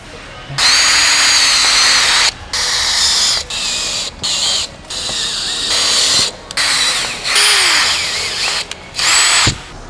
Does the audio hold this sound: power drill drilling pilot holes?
yes